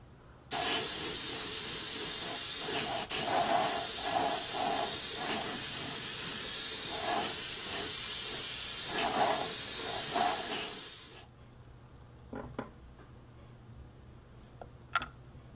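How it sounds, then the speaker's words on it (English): Spray paint hissing steadily onto a plastic Revell harbor tugboat model kit in buff color, a close continuous spray lasting about ten seconds with small pulses, then stopping, followed by faint clicks. "I'm going to tint my entire model with a coat of buff color."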